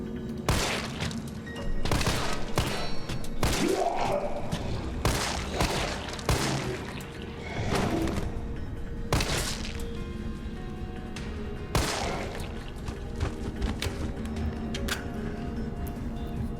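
Pistol gunfire aimed at zombies in the 2020 Resident Evil 3 game: a run of sharp, loud shots at irregular intervals, a few in quick bursts, over a steady low ambient game background.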